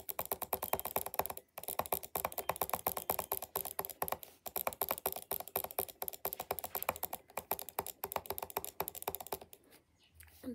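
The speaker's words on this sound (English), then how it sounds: "Gaming mouse, butterfly click." Gaming mouse worked by butterfly clicking, two fingers alternating on the button to make a dense, fast run of sharp plastic clicks, broken by a few short pauses, close and alone.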